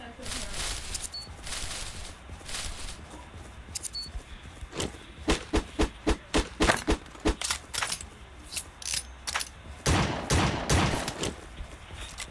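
Rapid bursts of video-game gunfire from surviv.io crack out in quick runs of sharp shots, fairly loud and close, with a person talking in the background.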